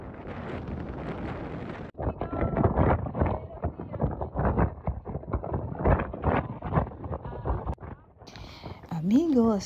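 Strong wind roars and buffets the microphone on an exposed hilltop at Shropshire's highest point in England, 1772 feet up, with a voice talking under the gusts.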